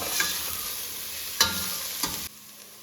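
Chopped onions, three of them, sautéing in a pan for chicken biryani, a steady soft sizzle with a few sharp scraping stirs before the frying noise drops away near the end.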